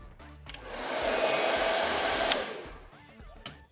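A handheld blow dryer runs steadily on freshly teased hair at the crown during a styling session, rising to a sustained rushing whoosh for a couple of seconds and then easing off, close to the microphone with no talking.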